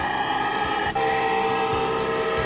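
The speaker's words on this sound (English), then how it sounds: "it's fun to see the trains come booming across the bridge and down across the trestle." A garden railway model train rumbles across a bridge and down a trestle outdoors, a steady rolling rail noise with a sustained tonal whistle-like hum, close and fairly loud, with no speech.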